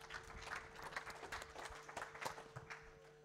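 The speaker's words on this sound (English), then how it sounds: "Give yourselves a round of applause." Applause from a conference audience at the end of a talk in a vendor track: dense but fairly quiet clapping held steady for the whole stretch, with a faint steady hum underneath.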